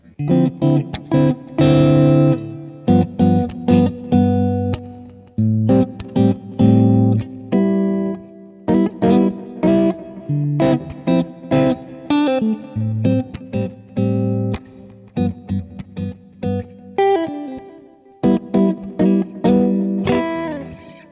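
Electric guitar played through a Kemper amp profile, Who What 504B3, a riff of punchy chords and single notes with crunchy drive, loud and steady with brief gaps.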